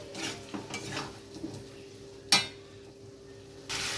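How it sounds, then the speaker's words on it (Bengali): Coriander and chili powder masala being fried and stirred in a pan, with soft sizzling, scattered utensil clinks and one sharp metallic clack near the middle, close and fairly quiet. "হাফ চামচ ধনে, হাফ চামচ লঙ্কা গুঁড়ো দিয়ে আবারও আমি ভালো করে মশলাটা কষিয়ে নেব।"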